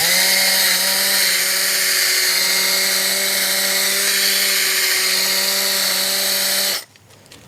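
A motorcycle headlight is sanded with 3000-grit using a power tool. It whines steadily and loudly with a constant pitch for about seven seconds, then stops abruptly, leaving quiet room noise. Nobody talks.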